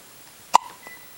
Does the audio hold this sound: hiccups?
yes